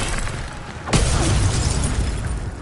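A sudden sharp magical burst from the Levioso levitation spell in a Harry Potter video game, one crisp snapping hit followed by a sustained rushing, crackling swell over steady background rumble.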